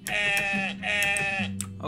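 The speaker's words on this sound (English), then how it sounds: "There's a sheep." Sheep in the video game Morai bleat twice in quick succession, loud and close, with nothing else in between.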